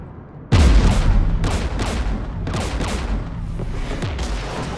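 Heavy gunfire and booming blasts from a Mass Effect 3 battle as Geth anti-aircraft guns fire near a jamming tower, loud and dense, with repeated bursts rolling over a constant roar for nearly five seconds.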